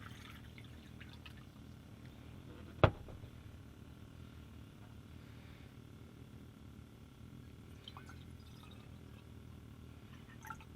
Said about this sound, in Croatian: stavit ću u moku isto tako 2 decilitra vode